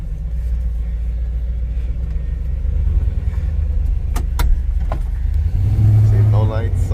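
Car engine from 1996 idling and revving while driving on rotted tires, a steady low rumble throughout with a few brief sharp knocks midway and a swelling rise near the end, close and fairly loud.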